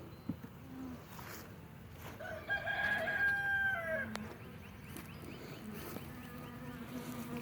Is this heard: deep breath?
no